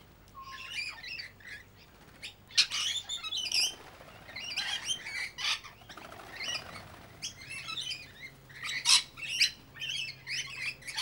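Noisy miners and parrots call in a bird sanctuary, giving bursts of sharp chirps, squawks and tweets in irregular clusters, with occasional wing flaps, moderately close over a quiet background.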